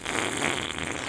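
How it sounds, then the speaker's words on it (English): A single fart noise, steady and fairly quiet, lasting about a second with no talking over it. "I made a fart noise."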